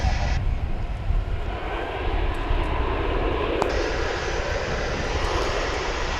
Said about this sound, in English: We've got another 777 coming in on the east side. It's from London Heathrow. It's American Airlines Flight 51.